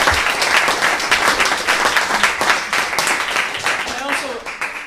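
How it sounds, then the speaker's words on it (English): An audience gives a round of applause at a live charity session, a dense, sustained clatter of clapping hands with voices mixed in throughout. "But a big round of applause for Bob,"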